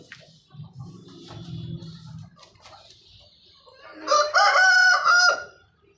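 Chickens clucking low and close, then a rooster lets out one loud, drawn-out crow near the end, with faint background noise and little else.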